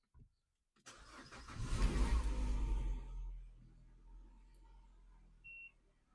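A car engine cranks and fires up, rising to a brief rev before settling into a low idle, followed by a short electronic beep as the service light comes on.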